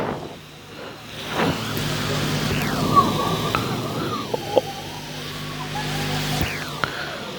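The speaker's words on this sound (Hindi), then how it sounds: "बारिश काफ़ी तेज़ होना शुरू हो गया।" Heavy rain falls in South Africa as a steady wash of noise, with passing cars swishing by and a few sharp knocks nearby; a faint voice murmurs at times.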